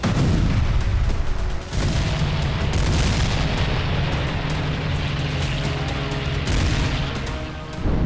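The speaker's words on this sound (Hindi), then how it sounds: "इजरायली सेना गाजा से लेकर लेबनान तक भीषण बमबारी कर रही है।" Israeli army bombardment during fighting in Gaza and Lebanon: a dense, continuous roar of artillery fire with booming blasts, loud and sustained throughout with little pause and no voices.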